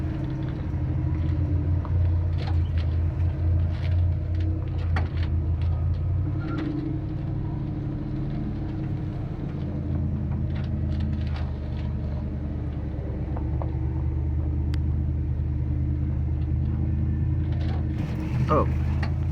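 A truck's low, steady engine rumble with rattling and knocking as it crawls over steep, rough ground in Grand Staircase-Escalante, Utah, continuous and close, with occasional creaks and bumps.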